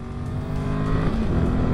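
A Royal Enfield Himalayan 450 motorcycle engine drones steadily and builds slightly in loudness, a close, continuous low rumble with no talking.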